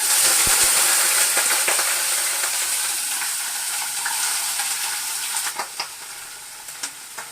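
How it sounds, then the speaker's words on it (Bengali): Spring onions and potatoes sizzle in hot oil, a dense hiss that softens slightly over time, with a few sharp clinks and stirring taps near the end. "এখানে তেলটাও গরম হয়ে গেছে এবার আমি দেবো হলো পেঁয়াজ কলি আলু ভাজাটা মানে পেঁয়াজ কলি আলুটা"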